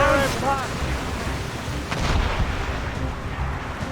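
Ship cannons firing in the Assassin's Creed Rogue video game, a heavy deep rumbling boom with rolling low-end decay over several seconds, while a voice shouts briefly at the start.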